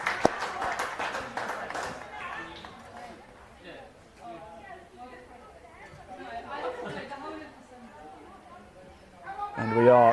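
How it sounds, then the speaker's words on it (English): Applause and crowd chatter from the stands at a women's football match between Chelmsford City Women and Bowers & Pitsea Ladies Reserves, a scattered, moderate clapping at the start that fades into murmuring voices, with a louder swell near the end. "a good applaud from the stands here"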